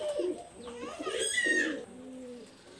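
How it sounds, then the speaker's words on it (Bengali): Saki pigeons coo close by, a few soft rolling calls followed by a quieter coo, with no talking. "এটা হলো আপনার সাকি কবুতর।"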